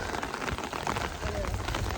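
Rain falls steadily at an outdoor medieval festival in Tewkesbury, a continuous soft patter of drops close by with a faint voice murmuring underneath.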